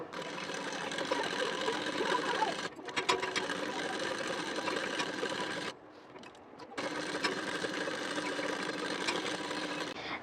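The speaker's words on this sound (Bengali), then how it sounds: "দেখুন দুটি বড় পাট বরাবর করে ধরে নিয়েছি এখন সেলাইটি দিয়ে নেব" Sewing machine stitching the side seam of a saree petticoat, a loud continuous mechanical whir with a brief ratcheting change and one short pause before the motor runs on again.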